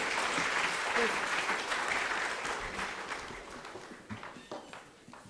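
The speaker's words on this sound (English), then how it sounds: "So please give a huge round of applause for her." Audience applause for a keynote speaker at a report launch event, full clapping that gradually thins out into a few scattered claps and footsteps near the end.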